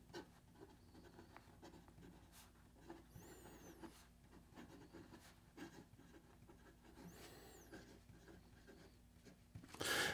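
An S.T. Dupont fountain pen nib scratching and gliding across paper in a quiet room, with soft continuous strokes and occasional faint squeaks, ending in a brief louder rustle.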